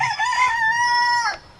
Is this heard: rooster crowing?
yes